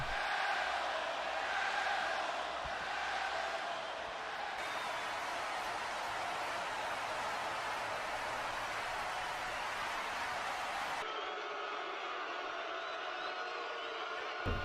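An arena crowd in San Antonio roars in a WWE 2K wrestling game, a dense, loud, sustained wash of voices and jeers that drops abruptly to a quieter hum near the end.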